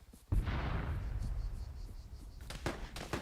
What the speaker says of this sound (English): I'm getting shot from a sniper from the left